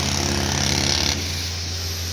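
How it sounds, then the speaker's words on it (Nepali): Construction machinery working at a roadside cliff site, a loud rapid pounding like a jackhammer that stops after about a second, leaving a low mechanical drone. "निर्माण कार्य भइरहेछ।"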